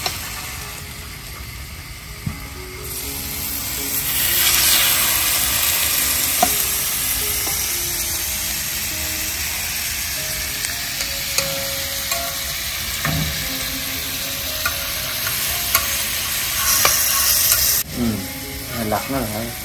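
Giant octopus tentacles sizzle and fry steadily in a hot pan for satay grilling, a continuous close crackle with occasional stirring and utensil clicks, while people talk faintly in the background.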